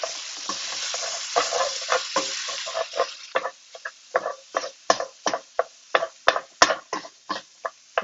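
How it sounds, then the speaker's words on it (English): Sausage meat frying in a pan is stirred with a utensil, giving a rapid series of sharp scraping, clacking strokes over a constant sizzle, close and loud, speeding up toward the end, with no speech. "I am going to double check this meat. Give it a stir over."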